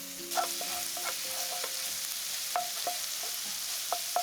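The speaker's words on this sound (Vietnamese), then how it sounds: "cho vào đây nửa muỗng cà phê hành tím băm và 1 muỗng cà phê tỏi băm phi lên cho thơm" Minced shallots and garlic sizzle and crackle in hot fat, a steady frying hiss with occasional stirring clinks and scrapes, close by, no voices.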